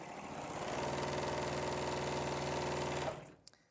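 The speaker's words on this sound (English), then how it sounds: "you can just sew all your strips together. So you just sew them in pairs" A sewing machine runs steadily for about three seconds, stitching fabric strips together in pairs at a quilting demonstration, then stops abruptly, leaving a few faint clicks.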